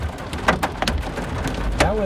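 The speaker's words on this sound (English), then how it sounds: "We got hail coming down here on I-70." Sharp irregular impacts rattle and tap against a surface, like hail striking a vehicle, with a brief faint voice near the end.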